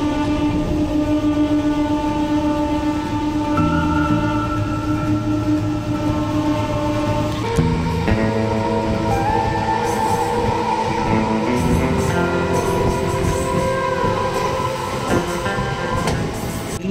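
A passenger train on the Tanuku to Narsapur run rolls steadily along, its continuous rumble and clatter filling the car with layered tonal hums and occasional metallic squeals, loud and close throughout with no talk.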